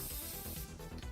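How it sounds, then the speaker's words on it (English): A short burst of spray paint hissing from an aerosol can, sharp and close, fading out after about half a second. "You want to shake them and pre-spray them"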